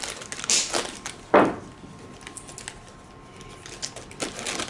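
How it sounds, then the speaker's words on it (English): Scissors snip through material while a diaper cake shaped like a princess carriage is assembled, with two or three short crisp cuts standing out close and clear against quiet room tone. "We're just going to snip."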